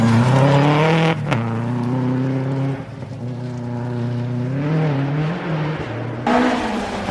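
A Subaru rally car at a snow rally stage hairpin, close by: a loud engine revving hard with shifting pitch, a sharp break near one second, then sustained acceleration that swells again near the end.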